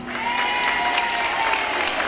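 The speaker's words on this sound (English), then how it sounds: "And a big round of applause for all the children." An audience at a community centre in Cork claps for a group of children, a brief burst of steady, fairly loud applause with a sustained tone ringing underneath.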